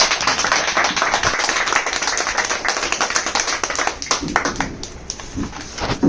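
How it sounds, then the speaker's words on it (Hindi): A training-session audience claps for several seconds, a dense patter of many hands that is loud at first and then thins into scattered claps near the end. "मैं चाहूंगा कि एक बार बहुत जोर से मदन नागर जी के लिए ताली बजाएं।"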